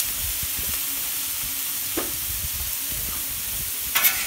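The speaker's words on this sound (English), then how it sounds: "just get a nice sizzle on them and we'll add some spices" Sliced potatoes and carrots sizzle steadily on a Camp Chef flattop griddle, a constant close frying hiss with a few soft scrapes and a brief clatter near the end.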